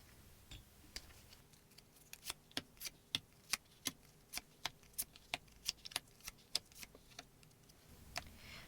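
Tarot cards handled and turned over during a reading, a steady run of crisp, sharp snaps and flicks about twice a second, close and clear against a quiet room with no talk.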